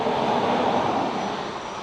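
Ryanair jet at Dublin Airport, a steady mid-range engine roar that stays fairly close and easing slightly toward the end of a brief stretch, no talking.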